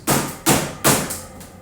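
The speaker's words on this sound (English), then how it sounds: "Hammer used his fists on the door," Fists pounding hard on a door in a stairwell, four heavy thumps in an evenly spaced sequence, loud and close, each blow ringing out briefly before the next, with no voices.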